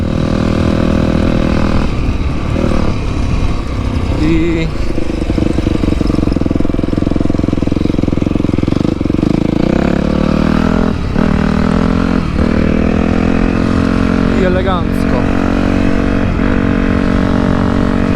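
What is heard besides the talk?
Yamaha YZF 250 motorcycle engine revving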